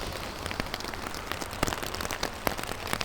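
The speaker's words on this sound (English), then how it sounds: "This rain is just getting stronger and stronger." Heavy rain pours down on the streets of Girne, a seaside city in Northern Cyprus, a dense continuous hiss with sharp drops pattering on surfaces close by.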